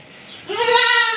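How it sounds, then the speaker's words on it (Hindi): A Pateri goat bleats at a goat and cattle livestock market in Karachi. After a quiet moment, one loud, close, wavering bleat follows. "ये मैं बकरी सेल आउट करना चाहता हूँ। पटेरी बकरी है।"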